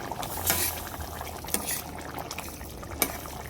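Coconut milk pours into a pan with soft splashes and gurgles, a few sharper drips standing out, close and fairly quiet.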